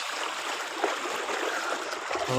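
Steady rushing of a flowing stream in the Konkan countryside, a continuous watery hiss with faint gurgles, no voices.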